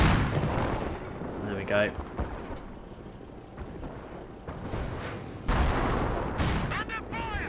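Gunfire and artillery blasts from the Company of Heroes battle game, a run of sharp shots and heavier booms landing in bursts, with someone talking over the combat.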